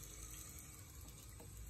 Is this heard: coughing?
no